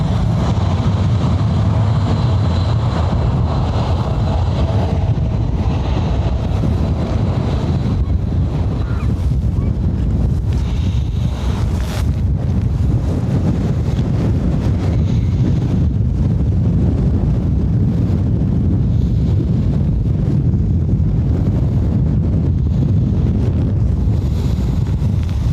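Strong gusting wind buffets a microphone at Dublin Airport during aircraft arrivals, a steady loud roar of wind noise throughout with no clear engine sound standing out.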